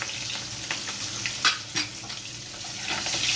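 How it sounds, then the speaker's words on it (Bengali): A hilsa fish head fries in oil with a steady crackling sizzle, broken by a few sharp clinks and scrapes of a utensil against the pan, and no talking. "মাছটা ভাজা হচ্ছে বন্ধুরা।"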